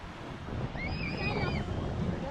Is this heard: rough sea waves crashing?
yes